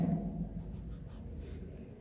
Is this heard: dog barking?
no